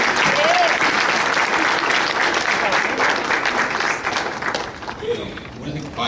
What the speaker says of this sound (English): Let's please give David one applause.